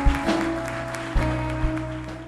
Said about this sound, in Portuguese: a Ele dê uma salva de palmas.